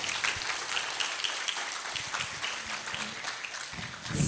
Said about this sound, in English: Please give applause to the speakers.